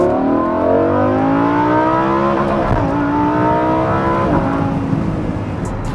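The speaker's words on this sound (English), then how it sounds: "nothing sounds like a V10 engine" Lamborghini Huracan V10 engine in Corsa mode, revving hard and loud up close with rising and falling harmonic sweeps over about six seconds, no talking.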